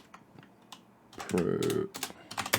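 Computer keyboard typing in short irregular bursts of key clicks, fairly close and moderately loud, with a voice talking over part of it.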